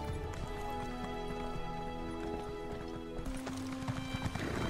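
A horse trots and gallops in an Elder Scrolls game, its hooves clip-clopping in a quick, steady rhythm close by, with the pace picking up and growing louder toward the end.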